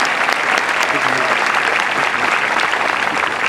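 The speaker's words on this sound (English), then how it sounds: "Round of applause." A crowd at an Air Force basic military training parade applauds in honor of senior NCOs, a loud, unbroken roar of clapping held steady throughout the few seconds.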